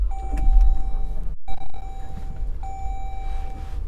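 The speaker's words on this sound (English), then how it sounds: "Power moonroof." Power moonroof of a 2012 Jeep Grand Cherokee Laredo running, a steady electric motor whine heard from inside the cabin with a short break partway through, fairly loud and close.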